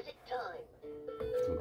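A VTech Turn and Learn Driver toy steering wheel plays a short electronic tune with steady synthetic tones, close and fairly loud, and a voice speaks over it near the start.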